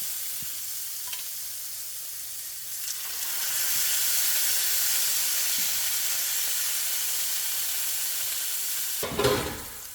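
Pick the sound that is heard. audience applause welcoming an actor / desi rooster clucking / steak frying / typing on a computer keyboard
steak frying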